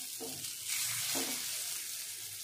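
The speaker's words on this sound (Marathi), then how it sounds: "मी जास्त तेल टाकणार नाही, थोडंसंच तेल टाकलेलं आहे आणि शालो फ्राय करून घेऊया" Alu vadi pieces shallow frying in a small amount of oil, giving a steady close sizzle with a couple of soft stirring touches, no speech.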